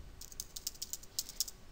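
Light, quick clicks of typing on a computer keyboard while entering a search query, a dozen or so irregular close keystrokes in a quiet room.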